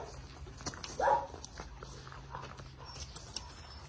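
One of two adoptable dogs gives a single short bark close by, against a quiet, faintly rustling background.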